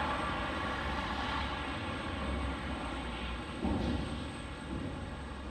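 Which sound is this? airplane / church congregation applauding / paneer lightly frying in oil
airplane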